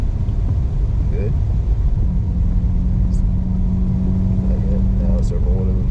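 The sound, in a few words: Mercedes SL45 engine accelerating on track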